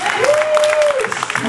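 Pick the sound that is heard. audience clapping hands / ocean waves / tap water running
audience clapping hands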